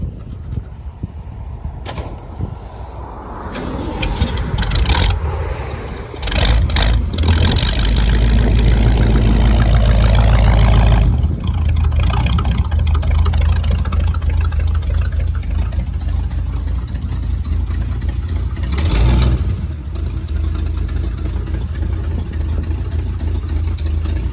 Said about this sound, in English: Crank her up one last time. Let's hear it.